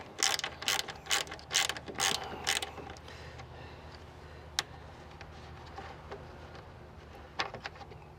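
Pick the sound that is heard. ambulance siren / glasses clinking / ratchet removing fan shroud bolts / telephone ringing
ratchet removing fan shroud bolts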